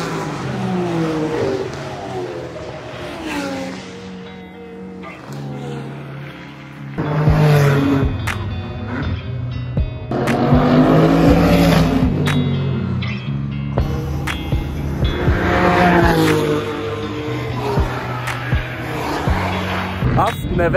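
Race cars on the Nürburgring Nordschleife during the 24-hour race at dusk, their engines building to loud roaring passes that rise and fade several times, with a voice talking over them.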